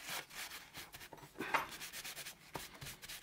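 A small wire brush, clogged with penetrating oil and grease, scrubs the jaw teeth of an old Bahco Model 31 adjustable wrench, giving quiet, close, uneven rasping strokes with a few sharper scrapes.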